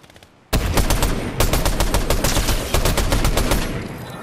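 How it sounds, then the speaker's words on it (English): Video game gunfire starts abruptly after a quiet half second and turns into a loud, sustained rattle of rapid automatic shots that continues to the end, with no talking. "Someone's trying to shoot at us, I think."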